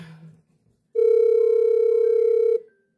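A single steady telephone tone sounds loudly for about a second and a half after a brief low murmur, then cuts off, leaving silence.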